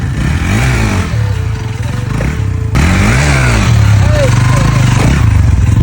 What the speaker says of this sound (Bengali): এখন আমরা ভাইয়ের একটা হুইলি দেখবো